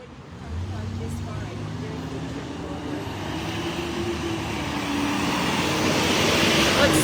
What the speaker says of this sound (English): you guys are just hearing tons of traffic, aren't you?